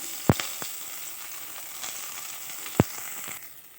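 Grated ginger sizzles in hot oil with bay leaf, dried red chillies and cumin for aloo dum, a soft continuous hiss punctuated by two sharp pops and a few lighter crackles.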